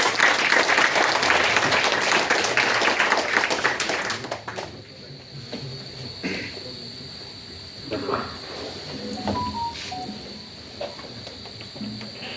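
A university auditorium audience at a Constitution Day event claps loudly for the chief guest, a dense burst of applause lasting about four seconds before fading to quiet room tone with faint scattered sounds.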